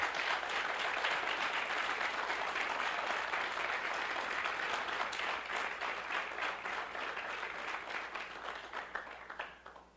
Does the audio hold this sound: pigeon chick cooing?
no